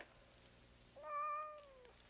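A single cat gives one clear, drawn-out meow of about a second, close and moderately loud against a quiet room.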